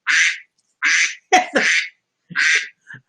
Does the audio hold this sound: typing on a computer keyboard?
no